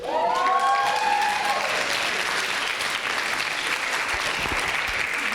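Audience applause at a student association awards ceremony, a loud sustained wash of clapping from a crowd, with a few whistle-like tones early on.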